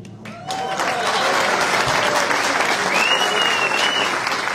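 A political rally crowd breaks into loud, dense applause and cheering as Aydın's metropolitan mayor Özlem Çerçioğlu is introduced, starting sharply after a brief lull and staying full and close, with a whistle rising through the roar.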